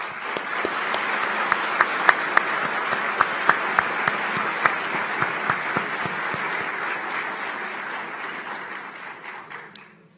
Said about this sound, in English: Let's recognize that support with a resounding round of applause.